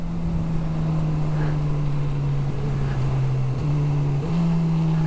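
A 2022 Honda CB1000R Black Edition with an inline-four engine drones steadily while being ridden, with a few quick pitch shifts as the auto-blipper works through gear changes, loud and continuous against wind noise.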